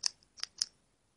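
Ballpoint pen clicked as a stand-in training clicker for rabbits, giving three sharp, close plastic clicks, the second and third in quick succession, in a quiet room.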